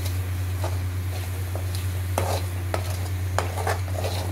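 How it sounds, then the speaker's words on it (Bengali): Lobster curry masala stir-fried in a pan, a low steady sizzle under a run of sharp scrapes and clinks as the spatula works the spices, with a constant hum behind it and no talking. "দেখতে পাচ্ছেন এটা কষা হচ্ছে"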